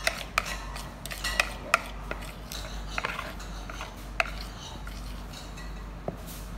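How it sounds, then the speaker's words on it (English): Spoon scraping the remains of whipped dalgona coffee mix out of a bowl, giving a series of sharp, close clinks and scrapes with short pauses, fairly quiet and without talk. "So I'm just going to scrape out the rest."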